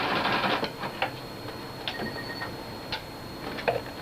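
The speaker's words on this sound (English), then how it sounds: "I'm going to use a narrow zigzag to make sure that there's no raw edges once it's all put together." A sewing machine stitching a narrow zigzag seam on a fabric surgical cap, with quiet, close, uneven bursts of mechanical ticking and whirring that stop and start, plus a faint steady electronic whine underneath.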